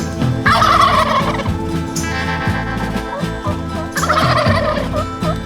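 Wild turkeys gobble outdoors in two loud, rattling bursts, one near the start and another a few seconds later, with steady background music underneath.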